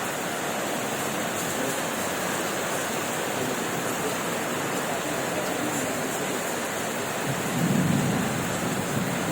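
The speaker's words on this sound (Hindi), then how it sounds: "तगड़ी बारिश हो रही है।" Heavy rain pours in a dense, steady hiss, with a low thunder rumble swelling near the end, no voices.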